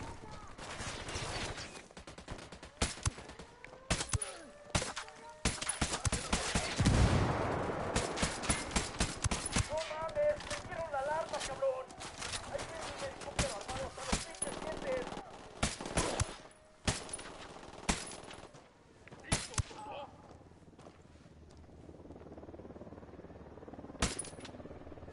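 Gunfire in the video game Ghost Recon Wildlands: dense volleys of rapid automatic shots and single cracks, loud and close, with a brief lull before further scattered bursts.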